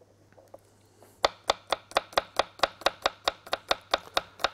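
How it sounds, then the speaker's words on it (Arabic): A knife chops a large garlic clove on a board in a steady run of about fifteen crisp, evenly spaced strikes, close and fairly quiet, following a brief soft pause. "هقطع فص توم واحد بس لان ده شكله كبير"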